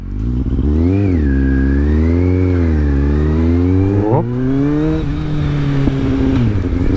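A Kawasaki Z750 motorcycle with an aftermarket Delkevic exhaust revs loudly close by, its pitch rising and falling in steady swells with no talking over it.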